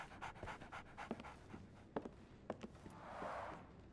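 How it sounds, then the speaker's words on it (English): Dog panting in the Sherlock Holmes The Awakened video game, a steady run of quick breathy huffs, close and fairly quiet, with a few soft footstep-like taps and a brief whimper-like tone. "So, Barnes has a dog now."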